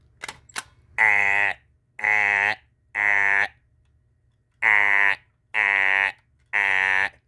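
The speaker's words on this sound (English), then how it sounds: "Ooh, there's a fire alarm. Let's go ahead and pull it." Fire alarm in a public building sounding in six loud, evenly spaced electronic horn blasts, each about half a second long with a brief gap between, after a couple of faint clicks at the start.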